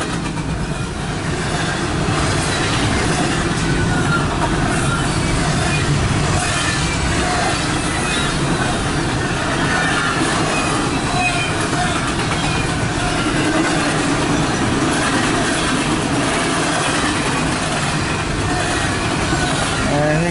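Southbound intermodal freight train passing near and loud, a continuous rumbling roar of railcars with light clickety-clack from the wheels, sustained at even volume for the whole stretch.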